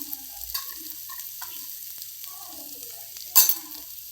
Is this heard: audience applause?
no